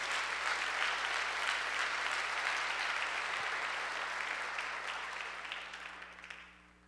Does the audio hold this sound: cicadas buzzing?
no